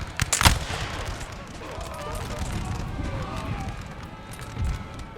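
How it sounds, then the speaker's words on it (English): Musket fire traded between troops and Spanish forces in Napoleon Total War, a burst of sharp close shots at the start, then a distant crackle under battle noise while someone talks. "we can see our troops trading shots with the Spanish over here"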